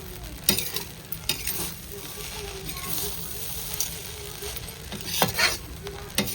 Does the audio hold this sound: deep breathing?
no